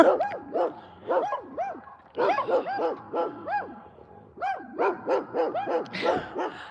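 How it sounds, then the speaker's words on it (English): Several dogs bark from a couple of houses across the street, in repeated bursts of sharp barks and yips with short pauses between them, at moderate distance. "a couple houses across the street has dogs are going nuts."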